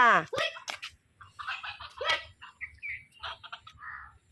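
Chickens cluck and squawk in short, irregular bursts nearby, mixed with a few chirpy calls, while a person talks over them at times.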